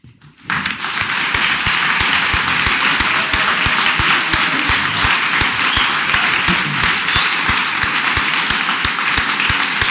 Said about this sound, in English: please stand for an applause